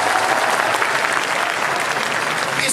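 An audience applauds at a live Nepali stand-up comedy show, with dense, loud, continuous clapping from a large crowd throughout.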